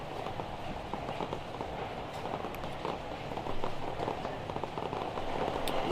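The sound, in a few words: heavy rain falling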